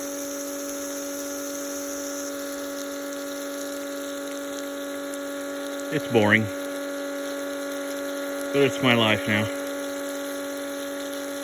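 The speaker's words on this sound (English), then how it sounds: "The pump's a little annoying, but hey, doing what I can do." A water pump running steadily to water a garden through an old hose, a constant mechanical hum with a faint whine, while a person talks briefly over it twice.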